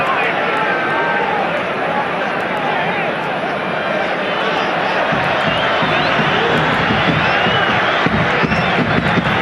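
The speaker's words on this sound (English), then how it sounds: "Crowd rousing them on now." A football stadium crowd at a Real Zaragoza versus Valencia match roars steadily, with dense cheering and chanting and a commentator talking over it.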